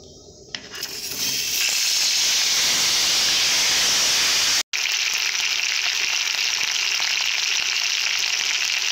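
Potatoes drop into hot oil seasoned with kalo jeere and bay leaf for a vegetarian potato and pea curry, setting off a loud, steady frying hiss that swells and holds, briefly cut off for a moment before the sizzle resumes.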